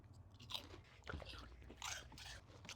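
Crunchy churro-flavored corn snacks being chewed up close, a few loud crisp bites and crunches spread over a few seconds.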